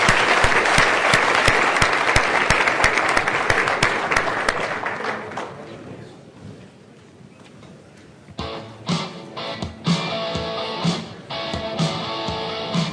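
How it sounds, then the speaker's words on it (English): Audience applause for a panel at a distracted driving conference, loud sustained clapping that fades out after about six seconds, followed by quiet room noise and then talk. "We have a round of applause for"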